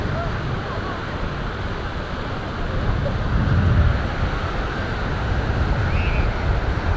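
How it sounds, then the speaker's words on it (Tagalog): Ocean waves roll and wash onto Lingayen beach in Pangasinan as a continuous broad rushing surge with wind noise, swelling slightly midway, while people can be heard in the background. "Sarap sana ng alon."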